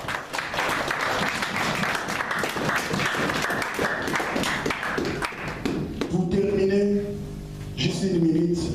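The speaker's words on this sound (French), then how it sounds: "Acclamons pour Jésus." A church congregation applauding in a dense, continuous wave of clapping for several seconds, then fading as a voice carries on over the last few seconds.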